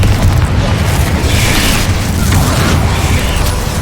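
The Confringo explosion spell in Hogwarts Legacy, heard as a loud continuous blast and rumbling boom with crackling debris over dense combat noise, sustained for several seconds.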